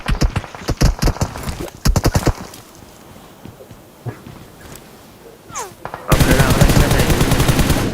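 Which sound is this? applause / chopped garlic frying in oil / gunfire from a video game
gunfire from a video game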